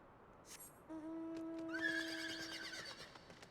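A horse in the video game Final Fantasy XIV whinnies once, a clear, rising then trembling neigh lasting about two seconds, fairly faint, with a soft hoof clop just before.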